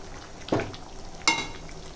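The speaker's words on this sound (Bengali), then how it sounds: "কষাচ্ছি, যতক্ষণ না এই জলটা মরবে ততক্ষণ তো কষানোটা কমপ্লিট হবে না" Mutton is being sautéed in a pan until its released water cooks off, a low steady sizzle broken by two sharp scraping stir strokes close by.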